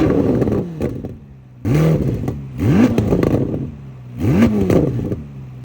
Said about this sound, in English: I'll try to throw in a rev clip here for you guys.